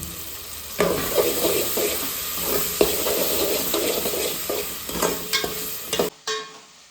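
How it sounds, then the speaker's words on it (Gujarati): Finely chopped tomatoes being stirred into sautéed onions and garlic in a hot pan for paneer butter masala, a steady sizzle with scraping stirs throughout, close and fairly loud before cutting off abruptly. "સંતળાઈ ગયા છે ડુંગળી એટલે આપણે ઝીણા સમારેલા ટમેટા ઉમેરી દઈશું તેમાં"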